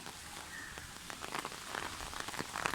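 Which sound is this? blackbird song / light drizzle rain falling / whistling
light drizzle rain falling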